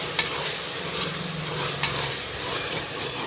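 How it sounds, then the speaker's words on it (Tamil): Ginger garlic paste sautéing in a pan for chicken biryani gives a steady, close sizzle with soft stirring scrapes and a few sharp clicks, no voices. "பாருங்க, நல்லா வதங்கிக்கிட்டு இருக்கு இஞ்சி பூண்டு."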